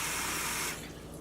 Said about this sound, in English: Keep going, kind of massage the rice really good in that water and dump it